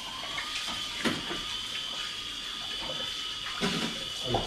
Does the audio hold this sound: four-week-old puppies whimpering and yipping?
no